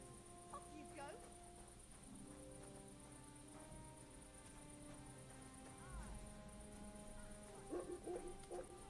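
A dog barks in the medieval role-playing game Kingdom Come Deliverance II, giving a few short yips and woofs against a busy background of in-game ambience, with a voice nearby.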